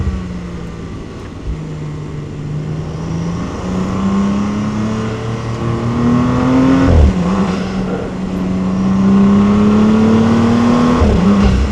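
An Audi RS5 accelerates hard on an alpine drive, its engine note climbing through gears in rising sweeps with brief dips at each shift, loud and close throughout.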